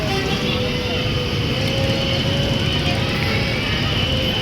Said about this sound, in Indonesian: bus yang datang dari Sumatera Barat